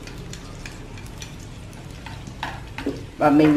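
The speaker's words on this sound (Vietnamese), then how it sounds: "đảo để cho hành tím và tỏi nó thơm như đã nha" Minced shallots and garlic sizzle in fish oil in a pan while being stirred, a steady close crackling frying sound with scraping utensil strokes. Someone speaks briefly at the end.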